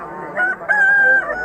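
Rooster crowing at a Xo'jaobod poultry market, a near, loud cock-a-doodle-doo with a rising sustained call and brief clucks, heard alone without talk.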